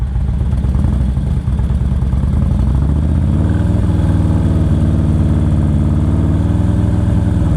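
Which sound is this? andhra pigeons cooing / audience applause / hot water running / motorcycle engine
motorcycle engine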